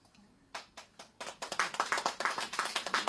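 Audience at a rock anniversary concert begins clapping sparsely, then builds into steady, brisk applause with distinct individual claps, moderately near and fairly quiet.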